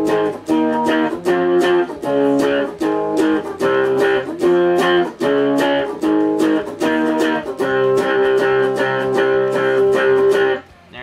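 Guitar playing a song, with rhythmic strummed chords in a steady, repeating pattern of sharp attacks, loud and close, with no voice over it.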